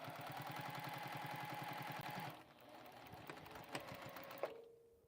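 A Juki sewing machine runs a steady, rapid stitching rhythm, pauses, then makes a few shorter bursts of back stitching with clicks, ending in quiet; it is near and fairly loud with no talk.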